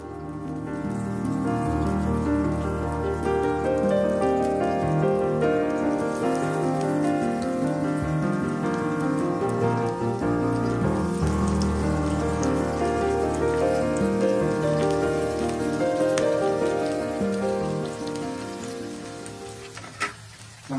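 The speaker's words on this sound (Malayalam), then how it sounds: "നമ്മുടെ എണ്ണ ചൂടായിട്ടുണ്ട്. അതിലോട്ട് നമ്മുടെ ഫിഷ് ഇട്ട് കൊടുക്കുക." Fish fingers frying in a pan of hot oil, a dense, steady crackling sizzle that holds loud and continuous throughout without any voices.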